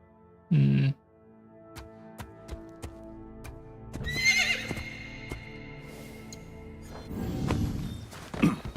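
A heavily armored horse in Assassin's Creed Shadows gives a short, loud neigh, followed by hoof clip-clops, thuds and rustling movement.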